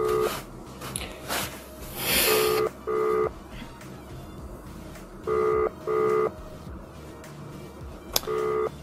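A phone placing a video call sends a series of electronic dialing beeps, six evenly paced tone bursts in two groups of three, loud and close over a faint hissing background, with no talking.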